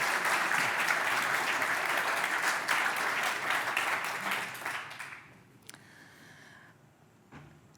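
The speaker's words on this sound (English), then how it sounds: "So again, an applause for these icons." Audience applause at a water-sector symposium, steady clapping from a full hall lasting about five seconds before trailing off into a quieter room with a few stray claps.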